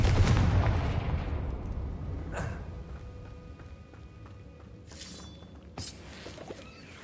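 A Confringo explosive spell in Hogwarts Legacy detonates with a loud booming blast that rolls off into a long fading rumble, followed by a few fainter crackling impacts.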